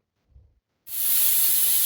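A pressure cooker cooking spinach pulao lets out a sudden, loud, steady hiss of steam after a brief quiet moment, continuing strongly to the end.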